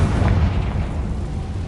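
Confringo explosion spell in Hogwarts Legacy, a loud, deep boom with a rumbling tail that fades over a second or so.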